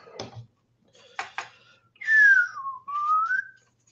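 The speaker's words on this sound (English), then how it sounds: "Whistling's good." A few soft taps, then close, clear whistling: one gliding note that dips and rises again.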